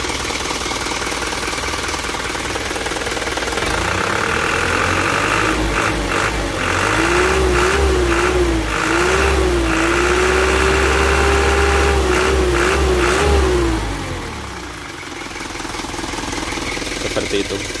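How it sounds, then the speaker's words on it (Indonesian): An Isuzu Elf truck engine idles and revs steadily while a high, wavering squeal from a slipping steering fan belt rises over it, then fades as the engine settles. "Suara kikik-kik itu dari suara streng ya."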